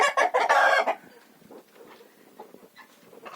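Chickens in a village yard: a loud close burst of clucking and squawking at the start, then fainter scattered clucks and rustling from the flock.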